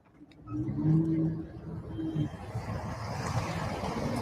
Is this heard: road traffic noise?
yes